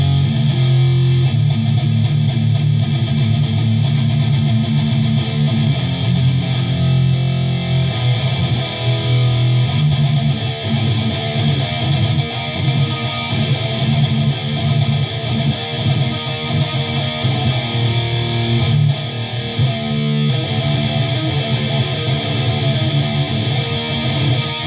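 A heavily distorted electric guitar sustains a dense, buzzing tone through an effects pedal, steady and loud for the whole stretch with no talking.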